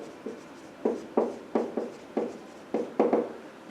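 A maths solution written out by hand, a series of short scratchy pen strokes in an irregular rhythm, close and fairly quiet with no talking.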